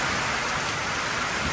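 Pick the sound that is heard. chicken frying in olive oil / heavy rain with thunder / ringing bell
heavy rain with thunder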